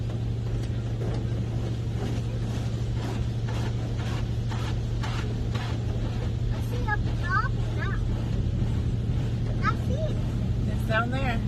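Automatic car wash jets spraying water onto a car, a steady loud rushing hiss with a constant machine hum underneath, while children chatter over it.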